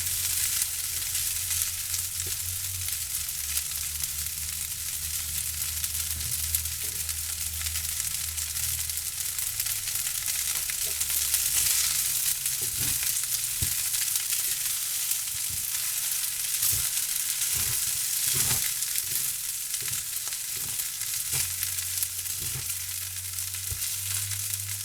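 Pork fried rice sizzling in a hot pan, a steady loud crackle and hiss throughout, with occasional scraping stirs and a low hum underneath.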